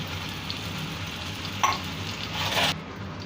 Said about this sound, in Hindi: तो पहले हम जो शिमला मिर्च और प्याज है वो हम ग्रेवी में डाल देंगे।